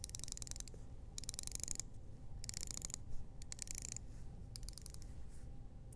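The bezel of a Seiko SPB185 dive watch is turned in several bursts, producing crisp, rapid ratcheting clicks close up, separated by short pauses, with no talk.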